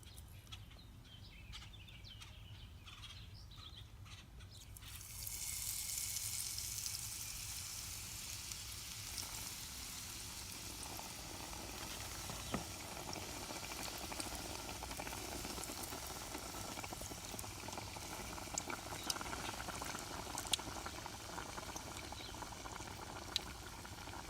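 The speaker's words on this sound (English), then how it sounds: "You'll know when it's done when the sizzling slows down" A beer-battered catfish fillet drops into hot oil and sets off a bright, steady crackling sizzle that starts abruptly and continues evenly, fairly close, with scattered pops and no voices.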